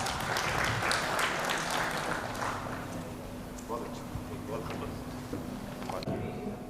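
An audience at an industry seminar on pigments applauds, brisk clapping that fades within a few seconds while a voice talks over and after it.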